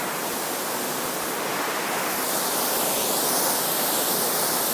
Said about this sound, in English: So the water pours down here, and then it goes through these cracks, and then it pours out this way very slowly